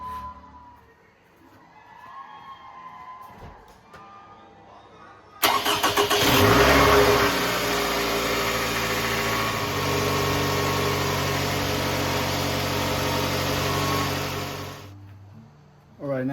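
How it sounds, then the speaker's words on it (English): A 2007–2011 Toyota Camry four-cylinder engine cranks and catches after an oil change, then settles into a steady idle for several seconds before shutting off. The start is abrupt and loud against a quiet garage. "And now we'll go start the engine."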